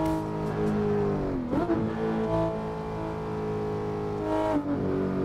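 Racing car engine in the PC racing game Assetto Corsa, a loud sustained tonal drone with shifting pitch and a couple of quick gear-change dips, steady and close throughout.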